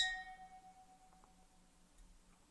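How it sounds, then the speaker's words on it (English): A single bright metallic ding rings out and slowly decays, with a faint second tap near the end; quiet and close. "Metal versus glass has a much brighter sound and a little tinnier"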